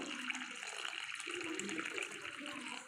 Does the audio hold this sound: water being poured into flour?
yes